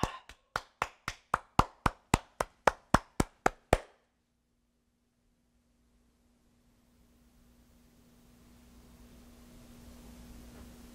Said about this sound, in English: Clap your hands over your head.